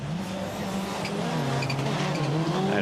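Race cars run around a rallycross track in Lohéac, France, with engines droning and tires squealing as the cars pass, one of them taking its joker lap. The sound is continuous and moderately loud, with no talk.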